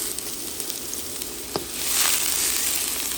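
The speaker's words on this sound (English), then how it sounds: "Add 1 medium size of chopped onion." Olive or cooking oil in a hot pan crackles with sporadic spits, then chopped onion goes in and a broad, loud sizzle swells up and holds steady, close by, with no talking.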